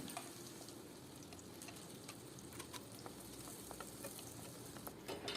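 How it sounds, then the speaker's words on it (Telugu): Chopped onions and green chillies frying in hot oil in a pan, a steady, close, dense sizzle with crackling pops scattered throughout and no talking. "నూనె వేడెక్కాక ఉల్లిపాయ, పచ్చిమిర్చి వేసి 2 నిమిషాలు ఫ్రై చేయాలి"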